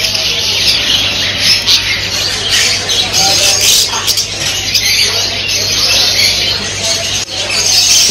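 Large birds squawking at a busy Crawford Market pet market in Mumbai, harsh calls and chirps repeating close by over steady crowd and market noise, with talking mixed in.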